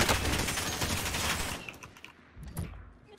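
Dense rapid gunfire in Call of Duty: Warzone, a loud sustained burst of overlapping shots that cuts off abruptly, followed by scattered lighter pops and a few quieter shots in the background.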